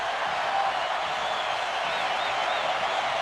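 A packed baseball stadium crowd roars in a continuous, dense wall of cheering during a tense playoff game, loud and sustained without letup.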